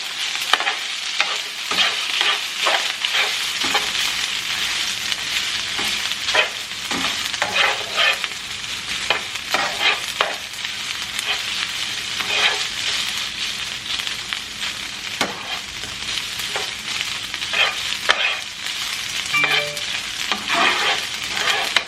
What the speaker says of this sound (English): I'm going to toss in my green onions